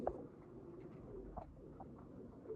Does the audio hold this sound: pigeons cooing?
yes